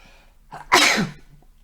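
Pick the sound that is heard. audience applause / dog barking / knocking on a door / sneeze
sneeze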